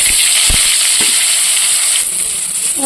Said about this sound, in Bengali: এই যে তেলের মধ্যে দিয়ে দিচ্ছি লবণ দিয়ে আলুটা দিয়ে দেবো